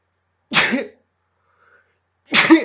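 Two loud, close human sneezes about two seconds apart, each a sharp burst that trails off, separated by near silence.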